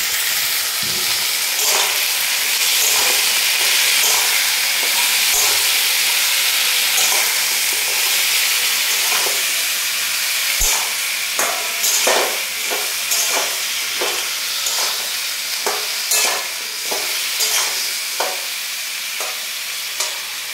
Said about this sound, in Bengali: এবার আমি এটা নাড়তে থাকবো